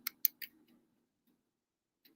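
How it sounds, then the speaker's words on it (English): A few quick, crisp key clicks from typing on a computer keyboard, three close taps followed by quiet and one faint final click, with no talking. "just typing to share out the screen"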